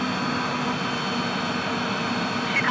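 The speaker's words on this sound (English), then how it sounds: "Look at all the planes." Steady, broadband roar of jet airplanes passing overhead, a continuous loud rushing drone with a low rumble underneath and no clear start or end.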